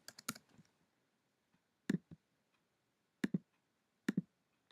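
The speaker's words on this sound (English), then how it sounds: "So we're going to type in Hebrew." Computer keyboard keys tapped in short clustered bursts, a quick flurry at the start and then sparse pairs of clicks separated by pauses, close and fairly quiet with no talking.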